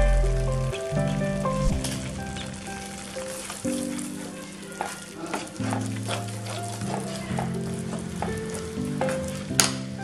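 Turmeric and coriander-cumin powder frying in hot oil for restaurant-style matar paneer, a steady close sizzle with stirring scrapes throughout, no talking.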